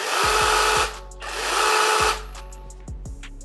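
A mini chainsaw running on a DeWALT 20V battery whirs loudly up close in several bursts, spinning up and winding down between short pauses.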